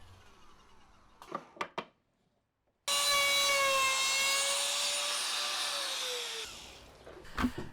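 A few sharp wooden knocks, then a belt sander and router whine loudly and steadily for several seconds while softening the edges of wooden panels, before winding down into more knocks.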